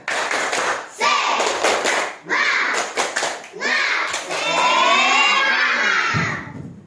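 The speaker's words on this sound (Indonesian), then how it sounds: "Coba sekali lagi, tepuk semangat." A class of children repeats a rhythmic clapping chant, quick volleys of hand claps broken by brief pauses, then a long loud unison vocal chant from many young voices nearby.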